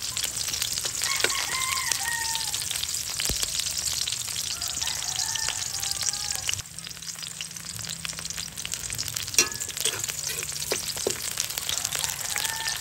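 Eel pieces cleaned with vinegar and salt fry in a pan after sautéing with bay leaf, giving a steady close crackling sizzle with scattered pops and spatters, no talking over it.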